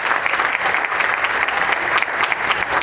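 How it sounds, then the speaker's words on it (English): Steady applause from an audience, dense and continuous clapping that holds at an even level throughout with no pauses. "Please give her a big round of applause."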